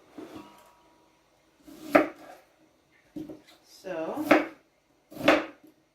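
Knife chopping a large onion on a board for tomatillo apple salsa, giving a few separate close, crisp cuts spaced over several seconds, with brief talk in between.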